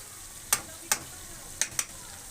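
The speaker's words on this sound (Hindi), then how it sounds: "अच्छे तरीके से टमाटरों की आपने भुनाई करनी है।" Tomatoes fry in oil in a pan for mutton karahi, a faint steady sizzle broken by four sharp spatula scrapes or taps.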